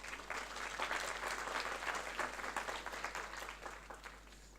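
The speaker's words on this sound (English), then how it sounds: "A round of applause, please." An audience at a conference talk claps in a steady round of applause, dense and even throughout, heard from a distance in a large room with a low background hum.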